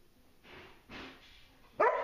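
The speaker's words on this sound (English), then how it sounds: "I take my hand off and he barks" A dog barks three times at close range, two softer barks followed by a sharp, loud final bark.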